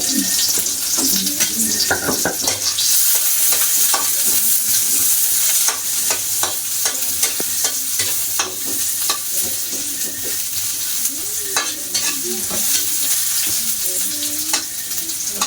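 Ginger and aromatics sautéing in a frying pan for a Filipino home-cooked fish dish, with a loud steady sizzle and repeated scraping stirs close by, no talking.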